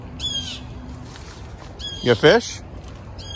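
Blue jay and mockingbird calling near a nest, with harsh squawking bursts and a louder cluster of calls in the middle, while a person talks briefly at the start.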